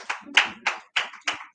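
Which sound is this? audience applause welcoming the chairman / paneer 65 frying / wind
audience applause welcoming the chairman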